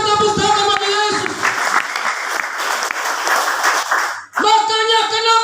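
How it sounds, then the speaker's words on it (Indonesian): Congregation clapping for Jesus during an Indonesian church prayer service, loud sustained applause rising over a voice and musical tones, then cutting off briefly before the music and voice return. "Mari berikan tepuk tangan bagi Yesus."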